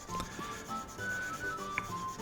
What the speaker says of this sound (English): we're back to sanding again after having been on the stone